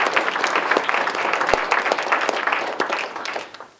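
An audience at a county Democrats soup supper gives military veterans a round of applause, with sustained crowd clapping that fills the room and fades out toward the end.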